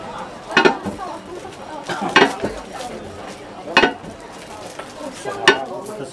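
Utensils clinking and stirring in a container as a lavender drink is mixed at a street food stall, four sharp scraping strokes spaced evenly over a murmur of voices and market bustle.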